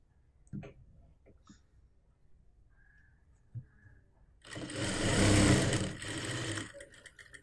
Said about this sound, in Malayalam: എന്നിട്ട് ഫസ്റ്റ് ഒരു സ്റ്റിച്ചിങ് നടുക്കൊന്ന് ചെയ്തു കൊടുക്കുക.